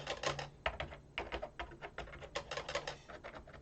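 Rapid, uneven keystrokes on the shallow-travel keys of an Enterprise 64 home computer keyboard, a steady stream of close, crisp clicks with no one talking.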